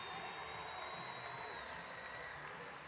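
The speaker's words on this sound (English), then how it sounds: "They come alive here in a lively crowd at Liberty First Credit Union Arena." The crowd at Omaha's Liberty First Credit Union Arena applauds and cheers after a home goal in a hockey game. It is a continuous, even wash of clapping and crowd noise heard from within the arena.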